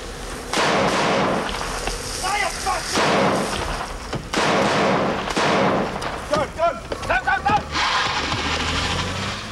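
Several loud, sharp gunshots ring out in bursts during a 1990s UK bodyguard training drill, fired at a gunman near a manor drive, with shouting voices between the shots.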